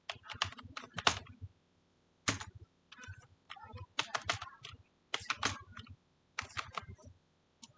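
Keys clatter on a computer keyboard in quick bursts of typing separated by short pauses, close and fairly clear with no voices.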